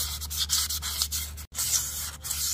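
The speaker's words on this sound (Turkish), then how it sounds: "balata giriş göbeklerini şu şekil güzelce zımparalayın" Sandpaper is rubbed by hand over the hub-contact surface of a scooter's rear brake shoe, a rough rasping scrape in short repeated strokes with brief pauses, close up and alone.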